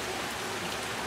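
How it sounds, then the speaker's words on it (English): Steady rain falling outdoors near a house, a dense, continuous hiss of drops with no talk over it. "Manny, get out of the rain"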